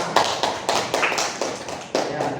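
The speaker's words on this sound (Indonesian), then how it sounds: "tepuk tangan buat Ustazah semua" A classroom group applauds a teacher: several seconds of steady, moderately loud clapping with sharp repeated claps, no speech over it.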